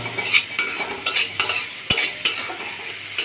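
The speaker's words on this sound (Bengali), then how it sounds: "এখন সব কিছু মরিচের মিশিয়ে মশলাটা কষিয়ে নিব।" A spice paste with Kashmiri chilli powder is stir-fried for a pointed gourd curry, a gentle sizzle broken by a steady series of spatula scrapes and knocks against the pan, heard up close with nobody speaking.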